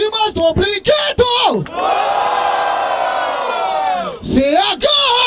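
A crowd at a rap battle in Barueri, São Paulo, roaring and cheering in one loud sustained swell of yells and whoops, framed by a host's shouts before and after.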